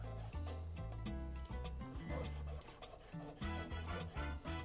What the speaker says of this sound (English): Now I can go ahead and start sanding. For this, I'm using an opened mesh sandpaper.